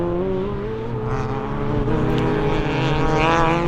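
Rallycross cars in the BTRDA Rallycross Championship at Pembrey roar around the track, a loud steady engine drone with rising revs as the field pushes onward into a gravel section.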